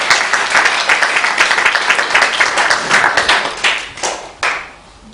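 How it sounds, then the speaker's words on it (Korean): A church congregation at Sunday worship claps together for members' birthdays: dense, loud, steady applause for about four seconds, then a few scattered final claps as it fades out. "함께 우리가 박수로 하겠습니다."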